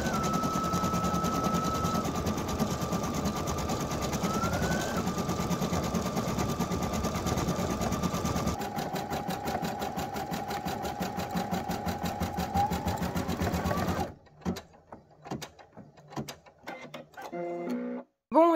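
Embroidery machine stitching a design onto a t-shirt: a loud, steady, rapid mechanical hammering with a constant hum that runs nearly throughout, shifting pitch partway through, then giving way to quieter clicks and stops near the end.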